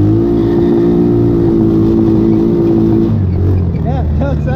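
A Tomberlin Crossfire 150cc go-kart engine drones steadily and loudly up close, its pitch dropping partway through as it falters, with a voice briefly audible over the motor.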